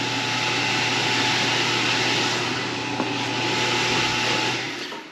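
An exhaust fan in a hood built over a Blackstone griddle blows hard, making a loud, steady whooshing roar with a constant hum, easing slightly toward the end.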